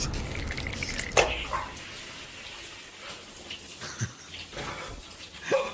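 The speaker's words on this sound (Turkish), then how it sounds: "Soğuk duş." A cold shower runs as a steady broad wash of spraying water, with a few sharper splashes and knocks standing out against the continuous hiss.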